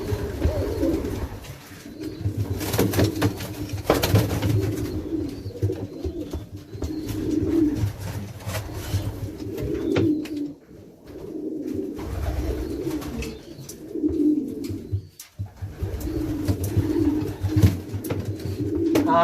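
Pigeons coo in low, throaty repeated calls, close by, with rustling and occasional clatter in the background.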